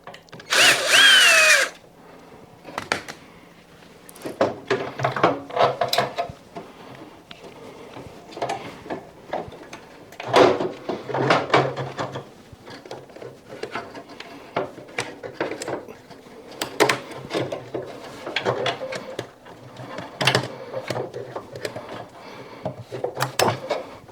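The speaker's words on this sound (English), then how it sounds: "Just need to support the pump when undoing the last screw." A power drill undoes the last screw holding the pump on a built-in integrated Bosch washing machine, with a loud opening whir, then bursts of motor buzz and clattering handling of parts nearby.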